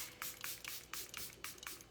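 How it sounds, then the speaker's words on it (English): Charlotte Tilbury setting spray misted onto a face at close range, heard as a rapid series of about seven short, crisp hissing bursts in a quiet room with no talking. "I'm just gonna spray my face."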